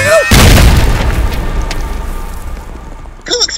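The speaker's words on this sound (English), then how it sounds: "Cool explosion." A loud explosion in an animated battle booms suddenly near the start, then a long rumbling decay fades out over several seconds.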